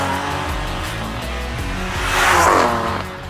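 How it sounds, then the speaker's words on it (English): A BMW M2 Competition engine revs loudly and continuously, the note climbing and swelling toward the end, with some tyre noise mixed in and no talking. "It's the BMW M2 competition."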